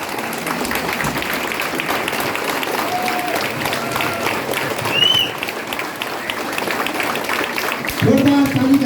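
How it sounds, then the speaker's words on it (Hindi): An audience in a hall claps steadily through a company event, a dense continuous wash of applause with a voice speaking over it near the end. "जोरदार तालीका साथ"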